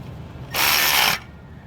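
A single short burst of rapid ratchet clicking, close and loud, as a bolt is tightened on the alternator of a 2012 Chevrolet Cruze.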